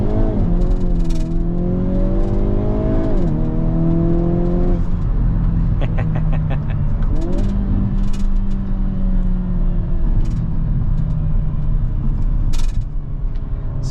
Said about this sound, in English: taking this Kona on the highway and we'll see how it does